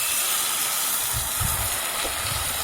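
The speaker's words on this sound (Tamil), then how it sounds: "இது கூட நான் துவரம்பருப்பு வேக வச்ச தண்ணியை ஊற்றுறேன்." Toor dal cooking water poured into a hot pan of sizzling drumstick leaves gives a loud, steady hiss and sizzle, with low bubbling surges rising underneath.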